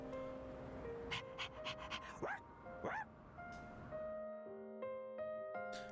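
Koromaru, a dog in Persona 3 Reload, pants in quick rhythmic breaths and whimpers, with game music tones and chimes playing alongside.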